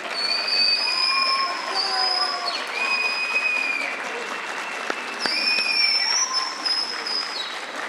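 Audience applause at a Pan African Mathematics Olympiad ceremony, a steady wash of clapping that runs throughout at moderate loudness, with a few high whistle-like tones and brief sharp accents mixed in.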